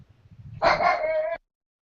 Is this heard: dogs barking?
yes